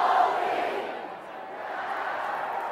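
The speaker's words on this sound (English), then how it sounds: "the students continue their cheer" Students chant and cheer together at a college men's soccer match between Cal Poly and UCLA, a steady, fairly distant crowd roar that dips briefly in the middle and then swells back.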